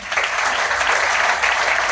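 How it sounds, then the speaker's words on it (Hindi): Loud, dense applause from an audience at a business seminar, steady and continuous throughout with no pauses and no clear voices. "एक बार जोरदार तालियां बजाऊंगा"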